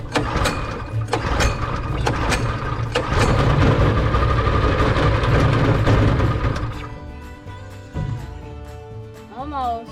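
A cheap $75 go-kart engine cranks over and over with a pulsing, labored rhythm, struggling to catch before falling quiet; a loud, close mechanical churn with brief pauses and no speech.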